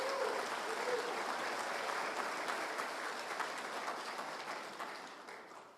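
A crowd applauds the Premier of Saskatchewan at a residential school apology ceremony, a dense, even wash of clapping that holds steady and slowly fades.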